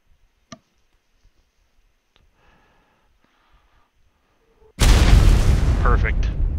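A single loud cannon blast erupts after several seconds of near silence broken by faint clicks and soft voices, its roar lingering and decaying.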